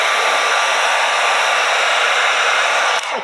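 A heat gun blows a steady, close, loud hiss of hot air onto a vinyl graphics wrap on a Traxxas TRX4 Sport body, then cuts off abruptly near the end.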